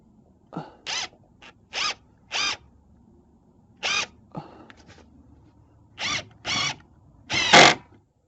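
A power drill fitted with a Torx bit drives a screw while hanging a backyard gate on new hinges, heard as about eight short whirring bursts separated by pauses, fairly close.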